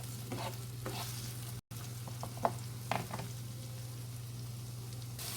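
Onions sautéing gently in a pan until just softened, a quiet steady sizzle with a low constant hum underneath and occasional stirring scrapes and clicks, a momentary dropout near the start, no talking.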